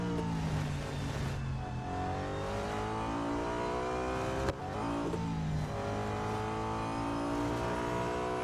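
An Audi A5 DTM race car engine from 2012 in the mobile game Real Racing 3 revs loudly and steadily, rising and falling in pitch through gear changes, with a brief clunk midway.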